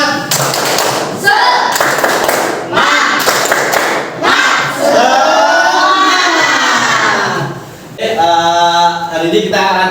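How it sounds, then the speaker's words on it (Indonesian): A classroom of students performs a rhythmic spirit-clapping ice breaker, with bursts of group claps and loud, chanting and shouting children's voices filling the room. "marilah kita melakukan kegiatan ice breaking dulu."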